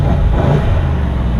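A 2018 BMW 750i xDrive engine runs with a low, steady rumbling roar, held at raised revs throughout, close by and fairly loud, with no voices.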